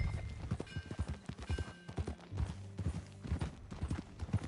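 Horse hooves clip-clopping at a steady walking rhythm in the video game Red Dead Redemption 2, a clear, repeated series of close, moderate hoof strikes with faint background ambience.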